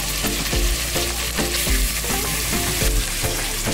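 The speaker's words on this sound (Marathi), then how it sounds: "आता त्याच्यामध्ये आपण चिकन घालूया।" Chicken pieces stirred into fried onion with turmeric and coriander in a pot, a dense loud sizzle with regular scraping strokes and dull thuds as the spoon turns the meat.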